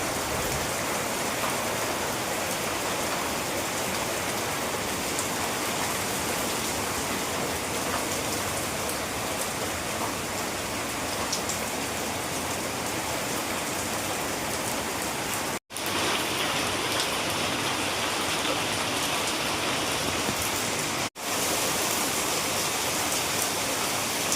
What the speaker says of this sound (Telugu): చూసారు కదా, ఫుల్ వర్షం.